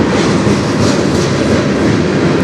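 A CN freight train rolls steadily past close by, its distributed power unit locomotive mid-consist, with a dense, continuous rumble and rattle of cars and wheels throughout, loud and unbroken with no talk.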